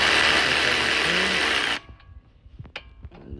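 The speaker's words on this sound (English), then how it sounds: "now I'm gonna take off these bolts back here" Power tool removing brake caliper bolts on a 2020 Kia Optima, a loud, steady whirring run for under two seconds that stops abruptly, followed by faint clinks and handling noises.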